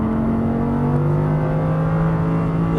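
Audi R8 accelerating hard on a race track at Exotics Racing, a loud, close, sustained engine roar with steady rising tones throughout, alone without voices.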